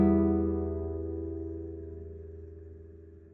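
Four guitar strings plucked together fingerstyle, thumb and fingers at once, ring out as one clear chord that decays slowly and evenly, alone with nothing else sounding.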